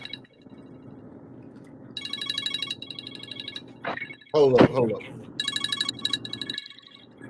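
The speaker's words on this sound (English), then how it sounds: "that's one of the worst ringtones I've never had" A mobile phone ringtone chirps in repeated electronic bursts, loud and close, while people chat; someone speaks briefly over it partway through.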